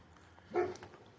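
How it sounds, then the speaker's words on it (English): A single deep bark carries from a group of big dogs in Cedarvale, Kansas, fairly faint and distant. "oh, big dog. Boy, howdy. Scared me. Oh, several big dogs."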